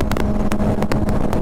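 Suzuki GSX-R 600 motorcycle rolling on the throttle in sixth gear on a highway, a steady engine drone with wind rush and brief broadband gusts.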